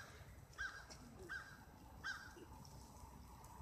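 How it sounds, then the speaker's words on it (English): Several crows caw outdoors in the snow, three short harsh calls spaced evenly and a little distant, over a faint background hiss with no talk. "there's a lot of crows out here."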